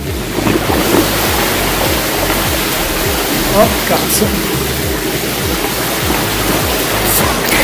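A bicycle ploughs through deep flood water on a blocked street in London, giving a steady rushing, splashing wash that fills the whole stretch, while a voice briefly exclaims over it.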